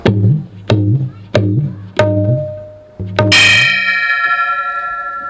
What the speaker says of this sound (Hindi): घंटी बजाती